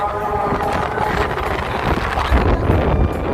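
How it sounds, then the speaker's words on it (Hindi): Steady wind blowing with low rumbling gusts and rustling noise, continuous throughout at a moderate level. "हवा चलक चालू हो गए"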